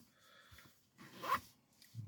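A zipper on a pair of pants is pulled in a couple of short, quiet rasping strokes, with small handling rustles between them and no talking.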